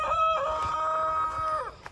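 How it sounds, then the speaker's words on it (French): A rooster crows once nearby, a clear drawn-out cock-a-doodle-doo of under two seconds, standing alone above faint background noise. "Désolé pour le coq, il est vraiment pénible."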